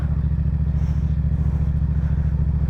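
A Yamaha FZ-07 motorcycle engine idles steadily up close, a loud, even low-pitched thrum with a fast regular pulse and no change in revs, alone without talk.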